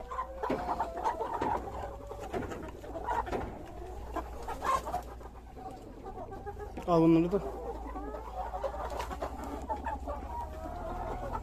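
Village hens cluck and murmur close by while a person talks, with one louder squawk standing out midway.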